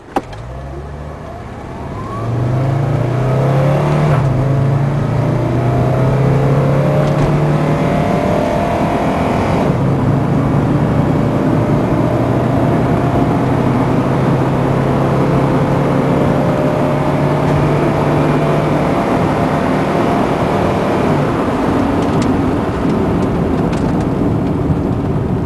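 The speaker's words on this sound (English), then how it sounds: "Now we'll conduct a 0 to 60 acceleration test." A Mercedes-Benz 300 SD with the 116 chassis pulls hard from a standstill to 60 mph, its engine note climbing through several gear changes, loud and steady from start to finish with no talk.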